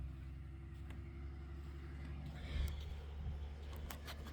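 A truck passes on a road, a low, steady rumble that swells briefly as it goes by. Faint scattered clicks and rustles sit over it.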